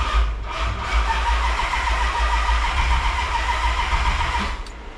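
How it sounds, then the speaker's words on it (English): A Dodge D150 pickup truck engine cranks and catches, then runs with a loud, steady rumble close by, the sound holding fairly even for a few seconds. "So we'll start this dude up real quick."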